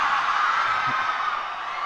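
A large audience at an actor's motivational speech roars with sustained whooping and cheering, a dense, loud, steady wash of crowd noise with no pauses.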